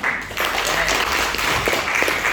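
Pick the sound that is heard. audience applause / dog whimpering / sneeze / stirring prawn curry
audience applause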